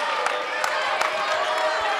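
A sold-out crowd packs a split school gym during a volleyball match, with a dense, steady roar of cheering and clapping broken by sharp claps, heard at a distance across the hall.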